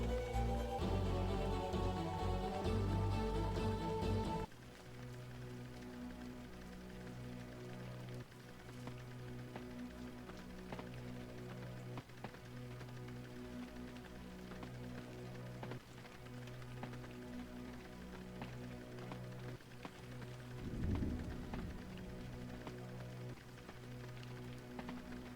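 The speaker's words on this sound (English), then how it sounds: "You know, this like rain sound would be really relaxing if it weren't" Steady rain falls in the PS2 game Evil Dead: A Fistful of Boomstick, a constant soft patter on surfaces under a low droning game soundscape, after a brief louder musical burst at the start.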